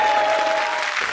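Loud, dense applause from a game-show studio audience, continuous and steady throughout with a faint tonal hum underneath.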